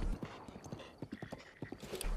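A horse's hooves clip-clop in a steady galloping rhythm in the video game Breath of the Wild, close and clear, with a brief whinny-like note near the end.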